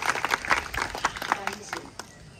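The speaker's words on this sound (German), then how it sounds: "Ja, jetzt wollen wir einen Applaus" Applause from an audience at a church gathering on the Hesselberg, a burst of scattered claps that thins out toward the end, with speech mixed in.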